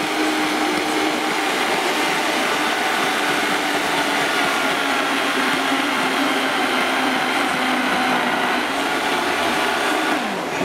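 A Vitamix blender runs continuously at high speed, grinding peanuts into peanut butter while a tamper pushes the mix down, producing a loud, steady whirring roar with no pauses.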